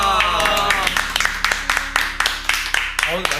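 Applause and clapping from a group, steady rhythmic claps with some music underneath, moderately loud.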